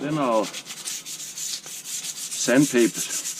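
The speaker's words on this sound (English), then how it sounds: "use sandpaper on it, just a little bit" Sandpaper rubbed by hand over a Cold Steel tomahawk, a steady scratchy rasping that runs through the clip at close range, with brief speech at the start and again near the end.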